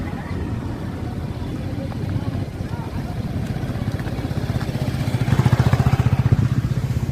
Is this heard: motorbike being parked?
yes